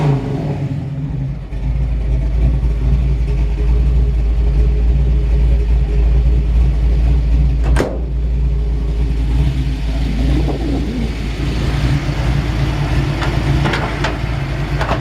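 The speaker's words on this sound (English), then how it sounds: "Love the sound of this exhaust. It's got turn downs in the back." A 1951 Chevrolet 3100 truck with turn-down exhaust tips idles with a deep, loud rumble, then revs several times, the engine note rising and falling close by.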